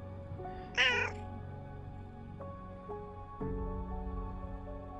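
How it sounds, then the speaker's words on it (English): A single shrill, wavering cat yowl rises briefly over a low, steady tonal background, followed by sustained harmonic droning. "Recruiting his loyal cat to scream into the funnel that captured her horrible yowls"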